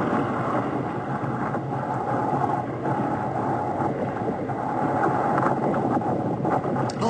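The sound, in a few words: surf and wind noise at sea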